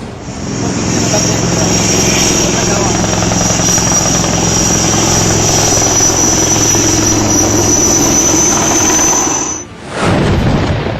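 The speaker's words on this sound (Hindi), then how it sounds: "काफी देर तक मध्य प्रदेश के इस हिस्से में वायुसेना का हेलीकॉप्टर मंडराता रहा" A loud, close air force helicopter hovers during a flood rescue in Madhya Pradesh, India, roaring and whining steadily overhead, its thumping drone dipping briefly near the end before surging back.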